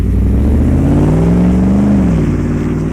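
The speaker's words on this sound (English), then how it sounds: "He's gonna give it kind of full throttle." A car engine revs hard at full throttle through a newly fitted aftermarket exhaust, a loud sustained roar that rises in pitch and then drops back, close and alone with no talking.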